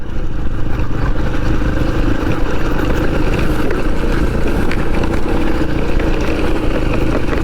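A motorcycle engine labours up a steep, extreme uphill road, with a loud, steady, close drone that holds for the whole stretch without a break and with no talk.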